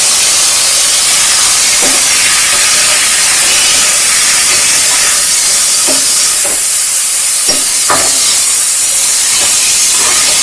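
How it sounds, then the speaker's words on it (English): Ginger garlic paste hitting a hot pan with onions, a loud, steady steamy hiss with a few brief clinks and stirring clatters, close up and without talk. "I'm just going to add the ginger garlic paste"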